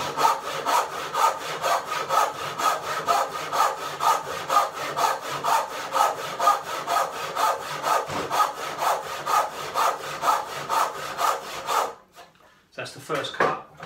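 Hand saw cutting a wooden tenon for a corner bridle joint, a steady rhythmic back-and-forth rasp of even strokes, close and loud, breaking off near the end before a few short final strokes.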